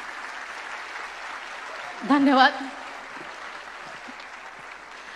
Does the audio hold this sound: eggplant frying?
no